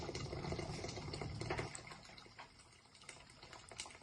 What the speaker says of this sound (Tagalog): lalagyan natin ng ating warm water na mineral para madaling kumulo